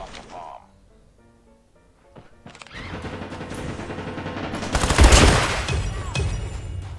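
Shotgun blasts in a mobile shooter game with a Manta Ray submarine skin, a loud burst of booming shots and impacts after a quieter stretch with clicks.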